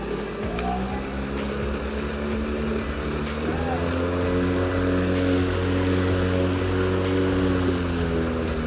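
A Makita DLM 532 36V cordless self-propelled lawn mower runs on grass, its motor giving a steady electric whine that climbs slightly in pitch as it speeds up, close and continuous under faint background noise.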